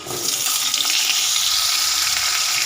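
Potatoes, salted and coated in turmeric, fry in hot oil with dried and fresh green chillies, giving a loud, steady sizzle that stays dense and unbroken throughout.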